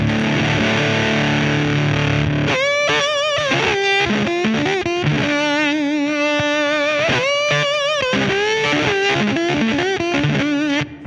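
Electric guitar played through a treble booster pedal with a switch selecting between two different transistors, giving a bright, gritty driven tone; a chord strum is followed by sustained bending lead phrases with wavering vibrato, loud and continuous throughout.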